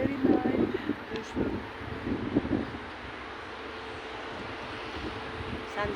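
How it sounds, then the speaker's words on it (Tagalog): Wind gusting across an open park, a broad rushing roar with buffeting on the microphone, strongest in the first few seconds and then settling into a steadier hiss. "Yo, so windy."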